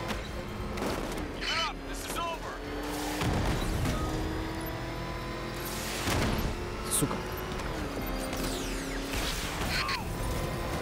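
Gunfire in the Batman: Arkham Knight video game, several sharp bursts and booms spaced a few seconds apart over a mechanical in-game drone, with someone talking over it.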